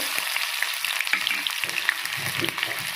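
Onions frying in hot oil for a mango chutney, a dense crackling sizzle with small pops, steady and near, with no voices.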